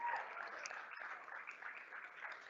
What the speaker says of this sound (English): So round of applause to the advancement team.